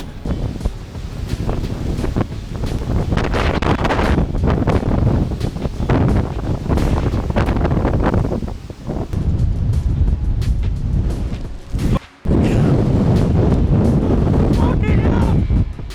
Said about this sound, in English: The wind didn't even peak yet.